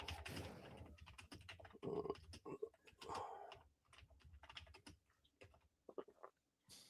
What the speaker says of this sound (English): I can't type properly on this bloody keyboard, man.